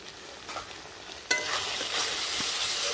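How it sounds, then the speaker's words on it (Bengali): Spices such as turmeric, red chilli powder and salt sautéing in a pan, starting with light stirring, then a sudden loud sizzle that carries on as a steady crackling hiss. "সব মশলা ভালোভাবে কষিয়ে নেব"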